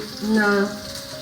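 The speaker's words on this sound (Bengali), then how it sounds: "ভালো করে এবার মশলাটা কষিয়ে নিতে হবে মানে পেঁয়াজ ভাজা হয়ে গেলে তার মধ্যে যেই মশলাটা করে রেখেছি" Spice paste of ginger, garlic, green chili, cumin and coriander sizzling as it is stirred into fried onions in a pan, one short burst of frying that swells and fades.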